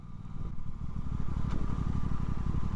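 An Aprilia RS 660 motorcycle rides along in third gear, its engine droning loud and steady with a rough, pulsing mid-range tone and a brief rise, close up with no talk over it.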